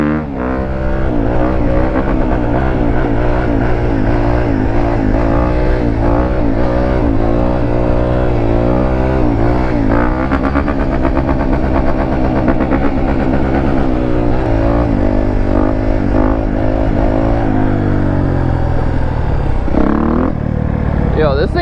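A Honda 250 RX dirt bike engine roars continuously while riding, rising and falling as the throttle changes. The sound is loud and close, with voices talking over it.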